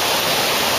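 A waterfall at a Malaysian tourist spot roars loud and close, a dense unbroken rush of falling water filling the whole short stretch.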